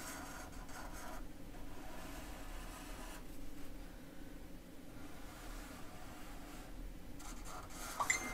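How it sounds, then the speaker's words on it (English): A pen drawing a diamond shape on a piece of paper, heard as steady, close, quiet scratching strokes with brief pauses between them, alone and without talk throughout. "you'll need a piece of paper and a pen, and draw what's below"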